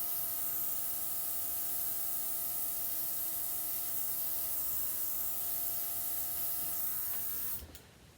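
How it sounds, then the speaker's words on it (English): Battery-powered airbrush spraying white acrylic paint onto the center of a poured flower painting, a steady continuous hiss with faint tonal whine that runs unbroken for several seconds before abruptly cutting off near the end. "I have my little airbrush."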